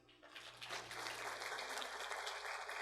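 A seminar audience applauds for Chris Tokas, clapping rising after a brief pause into a full, steady round that keeps going at moderate loudness.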